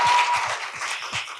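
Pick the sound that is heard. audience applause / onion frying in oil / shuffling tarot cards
audience applause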